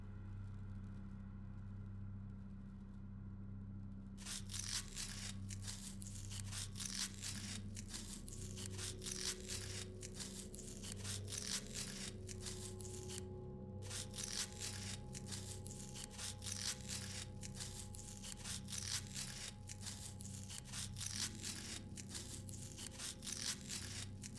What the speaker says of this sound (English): We must cut him open.